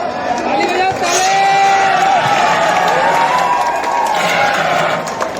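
Crowd at a disaster management mock drill, a loud continuous wash of clapping, cheering and excited shouting voices, dense and close throughout.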